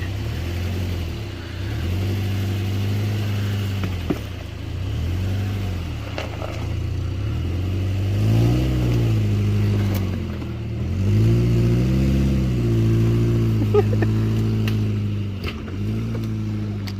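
An off-road vehicle engine drones steadily at close range, swelling and easing through repeated pitch rises as a tire is driven into a rut, with no talk over it.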